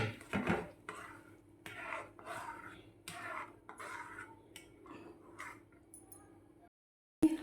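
Scraping and clinking of a spoon stirring semolina in a metal pot, with irregular rubbing strokes and a steady low hum underneath.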